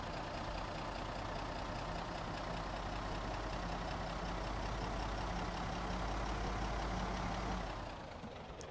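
A truck engine idles in the Project Zomboid video game as a steady, unbroken low mechanical drone with a faint pulsing hum, fairly quiet and continuous before dropping slightly near the end.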